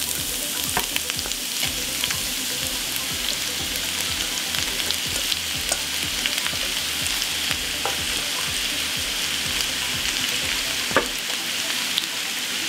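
Onion, carrot and pepper frying in heated oil in a pan, a loud continuous sizzle with frequent scraping stir strokes close by, running steadily throughout.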